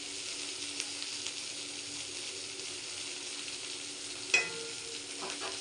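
Food fries quietly in a pan while being stirred, with a steady low sizzle throughout and a sharper clatter of the spoon near the end; no one speaks.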